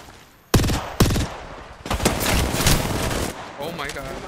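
Gunshots in the Apex Legends battle royale game: two sharp, loud single shots, then a denser volley of rapid fire, with a voice speaking near the end.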